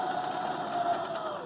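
A Baby Lock Zeal sewing machine stitching a zigzag whirs in a steady, even run throughout, close and moderately loud.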